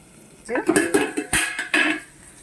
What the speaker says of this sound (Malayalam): ജസ്റ്റ് ഒന്ന് ഇളക്കി കൊടുത്തേക്കാം